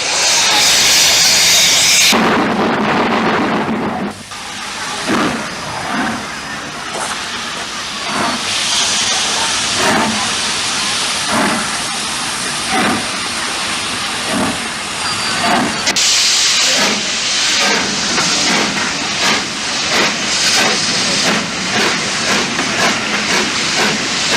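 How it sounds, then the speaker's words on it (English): The steam locomotive Sea Eagle slips on departure from a platform end, giving loud roaring hiss and steam with a burst of fast exhaust chuffs, then rapid rhythmic beats as the wheels spin, close and alone. "in time for Sea Eagle's characteristically slippery departure"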